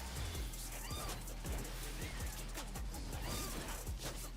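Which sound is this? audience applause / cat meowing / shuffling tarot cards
cat meowing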